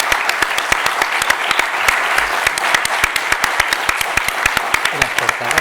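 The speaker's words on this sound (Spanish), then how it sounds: "ya sabes cómo damos siempre las gracias en las jornadas, con un fuerte aplauso como este" Strong, rhythmic audience clapping thanking a speaker at a conference session, dense and sustained with sharp individual claps standing out near the listener.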